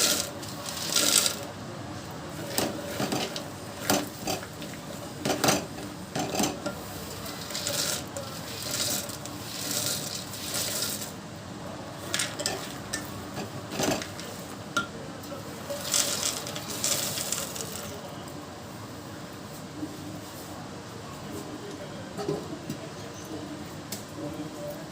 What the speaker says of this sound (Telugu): పల్లీలు వేసి కలుపుకున్నాం.